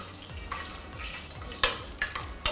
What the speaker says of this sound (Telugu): పచ్చిమిర్చి బిర్యానీ మసాలా వేసి ఫ్రై చేసుకోవాలి.